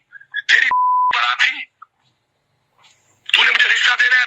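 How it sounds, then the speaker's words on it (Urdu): A single steady censor bleep tone of about half a second masks a curse word in a Pakistani political audio recording, with a man's speech heard just before and after it. "اگر کوئی گالی یہاں سے چلی جائے تو بیپ لگا دیں"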